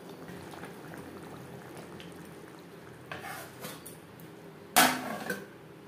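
Fish simmers in gravy in a pan, a low steady bubbling with a few soft utensil scrapes and one brief sharp clink near the end.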